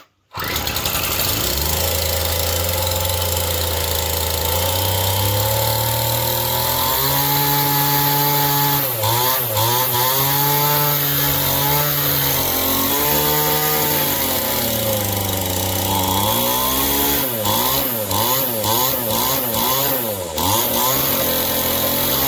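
A repaired Poulan string trimmer's two-stroke engine runs continuously and loud up close, its pitch rising and falling as the throttle is worked, with brief revving surges near the end.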